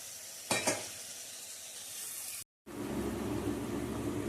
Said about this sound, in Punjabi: ਲੋ ਜੀ ਗੁੜ ਮੈਲਟ ਹੋ ਗਿਆ ਚੰਗੀ ਤਰ੍ਹਾਂ ਬੋਇਲ ਹੋ ਗਿਆ